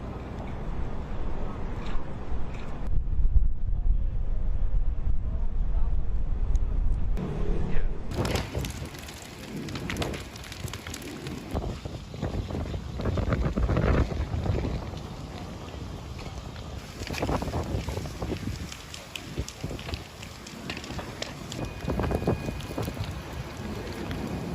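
Strong wind roars steadily through a hillside wildfire with palm trees, buffeting loudly and continuously with heavy gusting rumble throughout.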